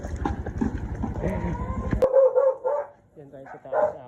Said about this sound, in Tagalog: Dami rin palang aso ng tito ko.